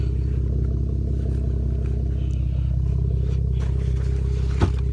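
A 2015 Chevrolet Camaro idles and pulls away with a steady low engine rumble, heard up close from inside the car, with a faint clatter near the end.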